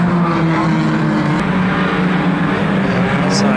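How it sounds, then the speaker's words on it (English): Unlimited banger racing cars at a Kings Lynn heat, engines roaring loudly and continuously as one car slams into another's front wheel, a sharp crunch of impact standing out briefly over the drone. "Lamley goes in with a big shot over the front wheel of 93 Goodman down here."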